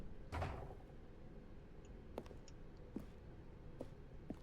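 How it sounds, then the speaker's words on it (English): A door opens in The Stanley Parable, a soft thud and creak near the start followed by a few faint clicks and knocks over a quiet room tone. "Stanley walked through the red door."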